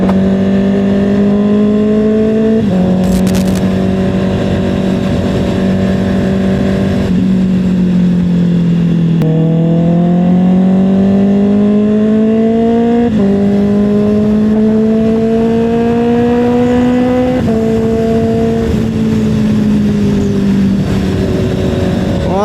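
A nearly new motorcycle with a custom exhaust pipe rides along, its loud, close engine note climbing and dropping repeatedly through gear changes for the full stretch.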